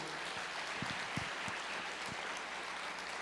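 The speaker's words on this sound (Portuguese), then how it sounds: "Pode aplaudir o Senhor." A church congregation applauds in praise of the Lord, a steady wash of clapping filling the room at moderate level, with a few sharper low thumps standing out near the start.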